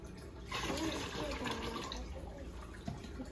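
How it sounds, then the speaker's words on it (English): Water splashes and trickles steadily for about three seconds, poured into a container holding a small creature, with children's voices talking over it. "you're just putting a lot of water"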